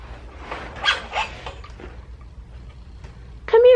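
A puppy indoors gives a few soft whimpers and short yips, then a sharper high whine or bark at the end, close by over a faint ticking background.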